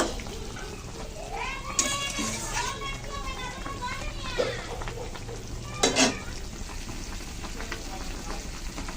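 Fried eggplant goes into a pan of simmering liquid for a Bengali begun bhapa, bringing a steady bubbling sizzle with a couple of brief louder splashes, while a voice talks over it and children are heard nearby.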